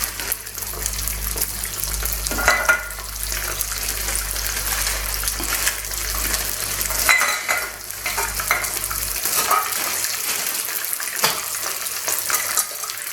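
Frozen spinach cooking in a pan, a continuous close sizzle with watery hiss and occasional stirring scrapes, a low hum underneath that cuts out partway through.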